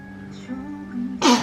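A single sharp, loud sneeze bursts out at the very end, following a stretch of quiet background hum and a faint voice.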